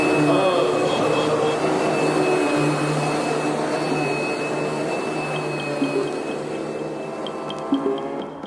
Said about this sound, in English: If your old vacuum cleaner's about had it, Don't throw it out.